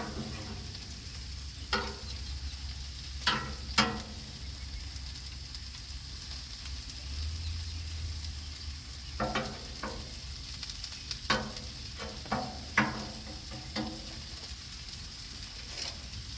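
Shrimp frying on a Blackstone griddle give a steady, soft sizzle, broken at intervals by sharp scraping and clicking as a spatula turns them.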